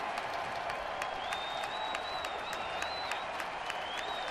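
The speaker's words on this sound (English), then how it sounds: "Crowd loves it" Baseball crowd at the Detroit Tigers' home stadium applauding steadily, with scattered cheers and whistles rising over a dense, continuous roar of clapping that holds at an even level throughout.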